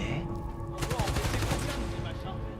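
Rapid gunfire rattles in a dense burst within the Spider-Man Miles Morales video game, loud and close over game music and effects, starting abruptly and continuing to the end.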